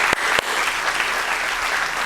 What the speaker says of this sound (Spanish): Y vamos a aplaudir todos juntos.